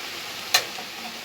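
Mixed vegetables for labra frying in a pan with panch phoron, lentil dumplings and a dried red chilli, making a low, even sizzle with one sharp utensil tap midway.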